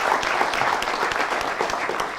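Applause from the crowd at a PRD political event marking the July 5 anniversary, a full, continuous wash of clapping across about two seconds.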